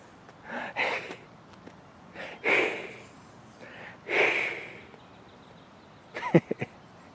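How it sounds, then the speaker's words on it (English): A goose hisses in several breathy, forceful bursts at close range, separated by short pauses and ending with a quick cluster of sharper snorting sounds. "Oh, old goose over there hissing at me."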